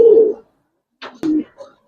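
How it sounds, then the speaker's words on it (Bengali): A pair of Hamer pigeons gives short, close, low coos in brief bursts separated by silence, with a sharp click between calls. "ভাই এক জোড়া হ্যামার কবুতর"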